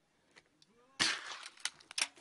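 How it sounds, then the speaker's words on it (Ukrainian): Sniper rifle shots on the Donbas front line, a sudden loud crack followed by several sharper reports and rattles within a second, nearby and over quiet surroundings. "3 постріли і 3 дірки в трубці розвідника."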